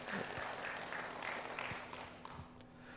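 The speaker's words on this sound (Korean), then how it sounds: "박수로 격려해 주시기를 부탁드립니다" Scattered clapping from a small group in a Korean church service rises briefly and thins out, with a faint steady hum underneath.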